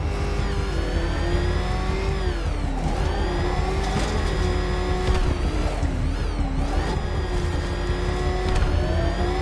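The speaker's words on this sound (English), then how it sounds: "I have to stay in the Batmobile and protect Gordon." The Batmobile's engine in the Arkham Knight video game roars continuously, its pitch rising and falling as it revs, loud and close, with no voices.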